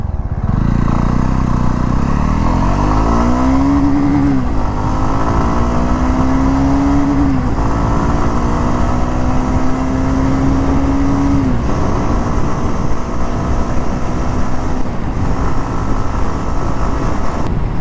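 A Jawa 42 motorcycle engine pulls hard through the gears, its note climbing steadily and then dropping at each of three upshifts, loud and close, with no talking.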